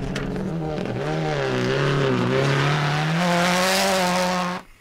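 Maxi rally car driven hard on a swept gravel stage in New Zealand's Otago region, its engine loud and steady with rising and falling revs throughout, ending with an abrupt cutoff.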